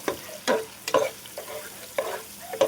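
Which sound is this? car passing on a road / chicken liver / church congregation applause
chicken liver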